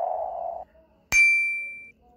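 A single bright ding transition effect from a video-editing app rings out clearly after a short stretch of low murmuring, then sustains and fades over about a second, leaving near silence.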